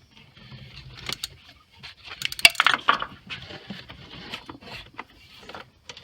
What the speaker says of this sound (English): put your ratchet on the extension. Break this free.